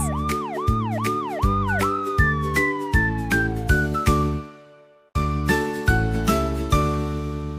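A cartoonish ambulance siren wails up and down several times, blending into a bright, jingly musical tune with bell-like notes.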